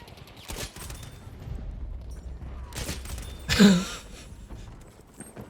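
Gunfire from a cheating player in the video game Battlefield 5 comes as a few sharp, separate bursts amid quieter game ambience, with one louder close shot standing out.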